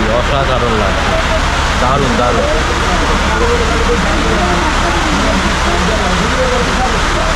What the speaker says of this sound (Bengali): আওয়াজ শুনতে পাচ্ছি, একটা ঝড় আর বৃষ্টি